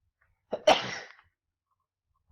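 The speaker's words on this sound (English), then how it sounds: "Bless me, that was a sneeze." A single sharp sneeze bursts out close by, with a quick intake and explosive release, followed by silence.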